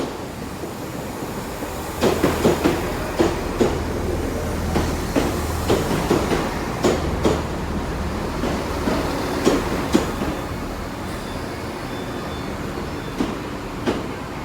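Class 166 unit 166220, with a failed turbo, runs into the depot at Exeter St David's. A low, steady diesel drone continues throughout, with recurring wheel clicks and rail joint knocks over the rumble, and no one speaks.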